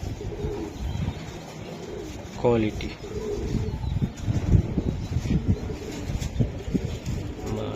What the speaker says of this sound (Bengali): এই যে দেন কবুতর দেখছেন